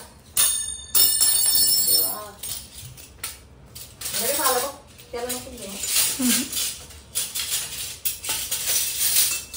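Metal dishes, pots and cutlery clatter and clink in a home kitchen while they are handled and put away, with sharp bright knocks scattered through the whole stretch and people talking over them.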